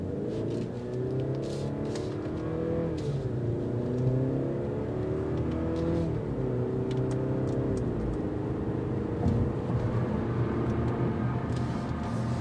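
A 2022 Mercedes-Benz C300 pulls away from a green light, its engine note rising and falling through several gear changes, heard steadily from inside the cabin with no talk.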